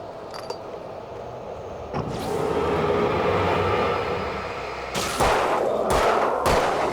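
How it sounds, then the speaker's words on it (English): Shotgun blasts in the video game Alan Wake, several loud sharp bursts near the end following a sustained rumbling, no talk over them. "I think it's time we go shotgun mode"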